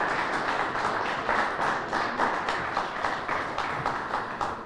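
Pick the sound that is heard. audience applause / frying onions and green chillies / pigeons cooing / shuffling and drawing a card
audience applause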